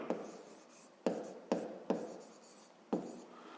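Handwriting for a fifth-grade maths exercise: a few crisp pen-on-paper strokes in short separate bursts with quiet gaps, close and clear, with no talking.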